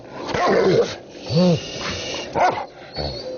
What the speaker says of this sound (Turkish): Bomba uzmanı köpeklerle köy didik didik arandı.